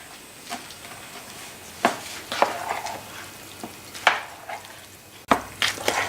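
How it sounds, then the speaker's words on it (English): Mushroom frittata batter being mixed with flour in a bowl, a few sharp utensil scrapes and taps standing out over a soft, steady background, no talking. "And the next thing is to just mix it all up."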